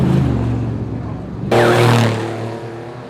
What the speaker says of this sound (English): today, it was the start of a leg of a big off-road desert race